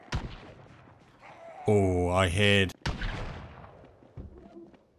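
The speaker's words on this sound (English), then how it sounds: "I hear shooting." Gunfire in Remnants of Kentucky, a zombie survival game mod inspired by Escape from Tarkov: a few sharp reports crack between stretches of talk, with a loud sustained tonal burst just before them.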